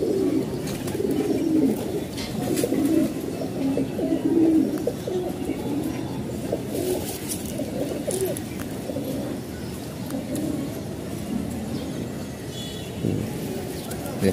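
A black-necked female pigeon and others coo in a low, steady murmur that runs throughout, with faint road traffic in the background.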